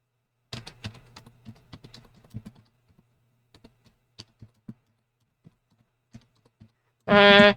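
Keystrokes on a computer keyboard, a burst of close, quick clicks followed by sparser isolated taps, ending in a short loud noise.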